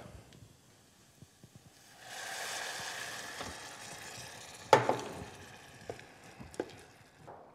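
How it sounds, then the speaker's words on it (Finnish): Chicken broth poured into a pan of sautéed rice, garlic and onions, setting off a soft, steady sizzle and hiss, then a few sharp clinks and scrapes of stirring as it settles. "aletaan lisäämään tonne riisin joukkoon hiljalleen kanalientä"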